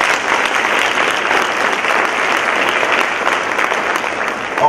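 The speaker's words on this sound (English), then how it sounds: "another round of applause." A convocation audience claps loudly in steady, dense applause that holds for several seconds without letting up.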